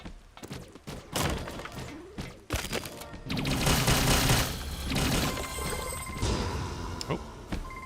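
A flamethrower with bombs fires in Skillshot City, a PvP roguelike battle royale, starting with several sharp thumping blasts and then shifting to a sustained, roaring hiss of flame with rapid crackles layered on top.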